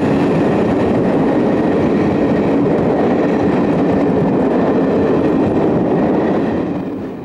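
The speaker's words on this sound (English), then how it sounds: "Through trains from the north of England and Scotland are handled by cross-country trains, who use a combination of HSTs and locomotive halt stock." A British passenger train, likely an HST, rumbles past at close range, a loud sustained roar of wheels and carriages with faint rail clatter that holds steady and begins to fade at the end.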